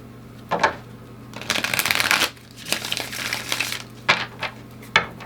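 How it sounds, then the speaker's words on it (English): A deck of tarot cards is shuffled by hand close up, with several distinct riffle bursts and a longer rapid fluttering shuffle of card edges, separated by brief pauses and taps. "One more shuffle."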